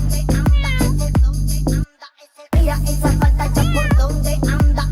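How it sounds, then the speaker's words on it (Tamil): A cat meows several times at close range on an outing in Al Ain, with loud, drawn-out cries in quick succession, one brief pause, and people talking around them. "பூனையை பார்த்து பயப்படுறியா?"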